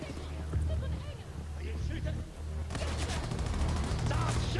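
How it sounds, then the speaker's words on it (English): Gunfire in Wolfenstein: The New Colossus, rattling bursts of shots over a low game rumble, growing into denser, louder automatic fire near the end, with a voice talking over it. "Stop shooting!"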